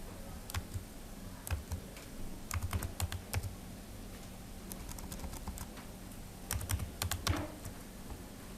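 Bursts of typing on a computer keyboard while entering a new password, quick clusters of crisp key clicks separated by short pauses, close and fairly quiet with no speech.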